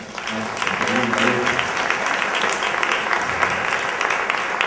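Audience at a film festival presentation breaking into sustained applause, a dense wash of many hands clapping that carries evenly for several seconds, with voices mixed in beneath.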